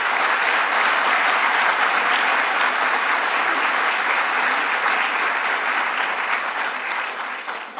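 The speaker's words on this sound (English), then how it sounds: "And let's give them a round of applause." A crowd applauds artists at the unveiling of a large public art installation in New York, dense sustained clapping that stays loud throughout and tapers slightly at the close.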